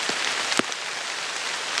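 Rain falls through the woods in Georgia, a steady close patter with a couple of sharper drops hitting nearby, no voices.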